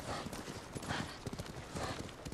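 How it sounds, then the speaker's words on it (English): Video-game horse hooves trotting in Ghost of Tsushima in a quick, steady clip-clop rhythm, close and fairly loud, continuing throughout without pause. "You gotta feed this damn horse, Jin"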